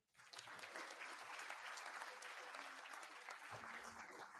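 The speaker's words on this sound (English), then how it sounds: "we can surely give a bigger round of applause" An audience at a human rights awards ceremony claps in sustained, dense applause that starts abruptly and continues evenly throughout, fairly distant and without speech.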